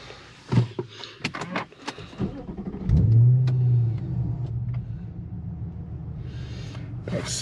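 An Infiniti M56 starting up and pulling away on a test drive, with a sharp engine rise followed by a steady low rumble and a few clicks and door-like knocks before it, close and fairly loud.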